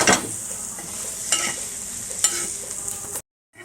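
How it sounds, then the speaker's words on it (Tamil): Bun parotta sizzles steadily on a hot pan, a bright continuous frying hiss punctuated by a few soft scraping and flipping knocks, close and moderately loud, ending abruptly in silence. "பன் பரோட்டா திருப்பி போடலாம். நல்லா இன்னும் வேக விட்டு எடுக்கணும்."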